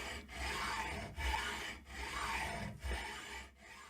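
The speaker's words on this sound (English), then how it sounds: "They're working on sawing and drilling through the bolts in the door." Hand tools rasp steadily through the bolts of a metal bank vault door, with repeated back-and-forth strokes broken by short pauses, close and unaccompanied by speech.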